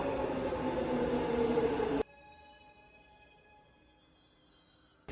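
A subway train at Gwangju station in South Korea, with loud rumbling running noise for two seconds that cuts off abruptly into a quieter, hushed station ambience with faint tonal hum.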